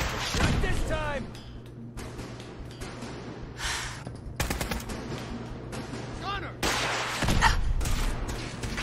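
Gunfire in a hostile firefight, with repeated sharp shots and short automatic bursts, loud and close, mixed with gasps and shouted voices between the volleys.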